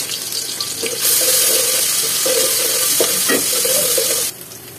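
Chopped onion and garlic paste hit hot oil and sizzle in a steady, loud hiss that runs for several seconds and then drops away.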